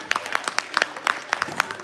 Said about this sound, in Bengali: হাততালি হয়ে যাক একটা।